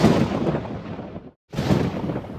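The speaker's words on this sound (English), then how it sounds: "more thunder and lightning" Thunder rolls in deep rumbling crashes, a loud sustained peal that cuts out briefly to silence before a second heavy rumble follows.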